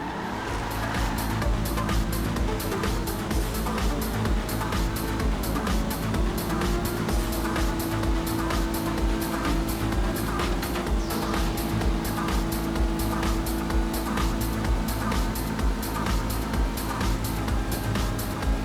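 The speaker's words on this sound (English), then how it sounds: "Just a little drag race at the airport, and I'm putting it up against the Champion and the EGT." Cars in a GTA Online drag race at an airport, an Annis 300R against rival supercars, drone with a steady, continuous engine roar and rushing wind throughout, loud and even, with no talking.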